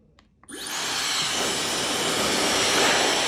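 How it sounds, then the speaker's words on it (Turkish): A Dyson Supersonic hair dryer in fuchsia and metallic grey switches on after a couple of clicks, ramping up within half a second into a steady, loud, close airy whoosh with a high fan whine. "Şimdi hemen prize takıp çalıştıralım bir de."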